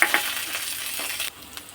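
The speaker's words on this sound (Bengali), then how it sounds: "আদা রসুন জিরে বাটাটা দিয়ে দিলাম তেলের মধ্যে।" Ginger, garlic and cumin paste dropped into hot oil over browned onions, giving a close, bright sizzle that suddenly quietens to a softer hiss near the end.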